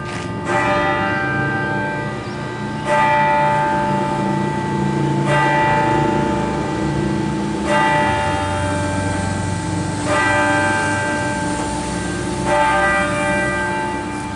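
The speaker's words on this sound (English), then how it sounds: "Okay, cool. I haven't heard these bells before." Church bells of Iglesia del Carmen in Panama City ring in a steady, slow sequence around 9 a.m., each strike blooming into a long, shimmering tone that overlaps the next; loud and unaccompanied by voices.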